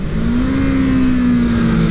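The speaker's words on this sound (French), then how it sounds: "on peut vraiment empiler les rapports rapidement, la boîte est assez véloce avec des bonnes montées en régime" A Kawasaki Z650 motorcycle engine revs hard and close, its steady droning tone climbing slightly and holding through a quick run of gear changes.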